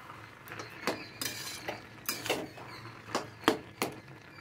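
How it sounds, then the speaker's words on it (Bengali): A spoon scrapes and clinks against a cooking pot while stirring a reducing curry, producing a series of sharp metallic knocks in an uneven rhythm, close and fairly clear over a low background hiss. "আমি আবারও এটা একটু নাড়িয়ে চাড়িয়ে নিচ্ছি।"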